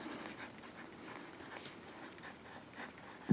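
A pen scratches steadily on paper as notes are written in an eighth-grade classroom, a soft continuous scribble with small irregular strokes, fairly quiet and without talking.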